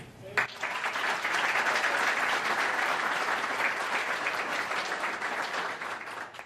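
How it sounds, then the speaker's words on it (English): Audience applause at the Villa Park Chamber of Commerce 2012 board installation ceremony, honoring Alicia Bailey: dense, steady clapping from a full room that swells quickly and holds loud for several seconds before easing slightly. "give a big hand of applause for the heart and the soul of the Villa Park Chamber of Commerce, Alicia Bailey"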